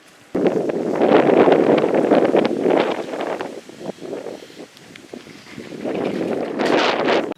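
Strong wind blowing at night around greenhouses, a loud roaring rush buffeting the microphone in long gusts that ease briefly midway and then swell again, close and without talk.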